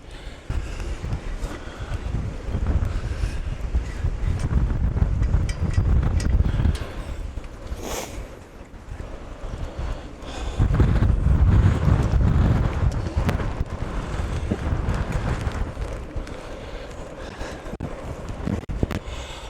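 Strong gusts batter an outdoor microphone, roaring and buffeting loudly throughout, with two heavier surges and a brief lull between them.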